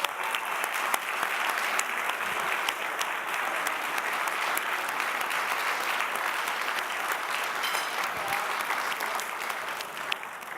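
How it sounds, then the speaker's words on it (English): Steady, dense applause from a large audience at an evening honors ceremony fills the whole stretch at an even level, with no voices breaking through. "let's give them a round of applause"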